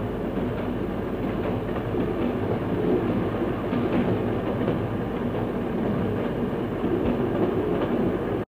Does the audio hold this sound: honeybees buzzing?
no